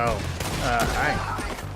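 Rapid volley of gunshots in the video game Red Dead Redemption 2, a short dense burst heard under a voice.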